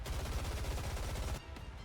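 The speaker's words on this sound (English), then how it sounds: "Gunfire unmistakably Snow White's erupts from behind." Rapid automatic gunfire from the video game NIKKE, a dense, loud stream of close shots that stops abruptly near the end, followed by a faint tail.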